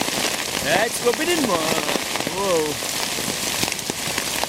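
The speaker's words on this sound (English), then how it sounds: "it's hailstone" Hailstones patter and rattle hard on a tarp during a windy storm at a campsite, a dense continuous drumming while a person talks and exclaims over it.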